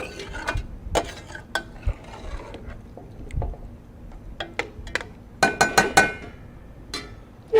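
A spoon scrapes and clinks against a pan while chicken Marengo with wine and stock is mixed, irregular sharp knocks and stirring sounds over a faint simmer, close by.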